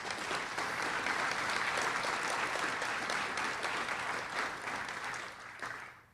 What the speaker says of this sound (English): So let's please give him a big round of applause again.